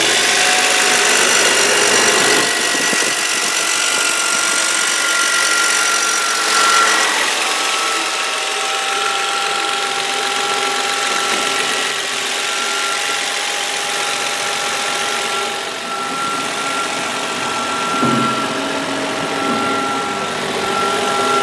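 A 2003 Nissan Altima SE's 3.5-liter V6 idles steadily, recorded up close beside the engine as a constant, even hum with a faint mechanical ticking, and no voices.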